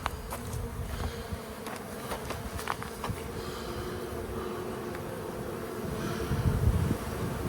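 Honey bees from a swarm fill a hive, a dense, continuous buzzing drone held close and steady, with occasional individual bees flying past and a slight swell near the end.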